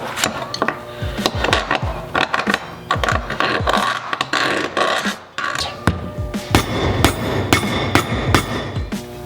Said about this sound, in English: Let's damage the thread some. This file.